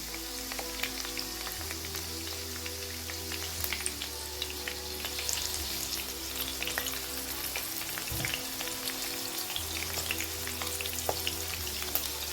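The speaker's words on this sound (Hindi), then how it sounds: "इसको लो से मीडियम फ्लेम पर रख के हम इसको तकरीबन 2 मिनट के लिए फ्राई करेंगे" Steady frying on a low to medium flame for a Bakra Eid dawat dish, a continuous soft crackle and hiss that holds evenly throughout with a low background hum.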